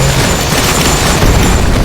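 Loud, overlapping booms and blasts in the video game Bad 2 Bad Apocalypse form a thick, steady roar of explosions throughout, with no quiet gaps.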